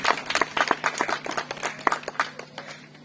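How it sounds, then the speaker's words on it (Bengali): Clapping from a small audience at a felicitation event honouring a police officer, scattered claps at varied pace, fairly close and moderately loud, fading slightly toward the end. "আমরা একটু হাততালি দিয়ে অভিনন্দন জানাই স্যারকে"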